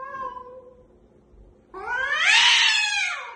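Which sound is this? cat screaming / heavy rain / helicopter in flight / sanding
cat screaming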